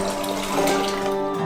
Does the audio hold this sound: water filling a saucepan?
yes